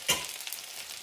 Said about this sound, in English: we'll get 2 more stirs on this and we're done